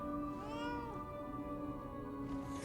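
A cat meows in the video game Lies of P, a single drawn-out, rising-and-falling cry over a steady background hum and ambient game music.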